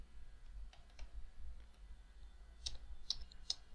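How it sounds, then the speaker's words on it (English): A computer mouse clicks a few times in a quiet room: three crisp, faint clicks near the end, with softer ticks before them. "So click on the cell right here"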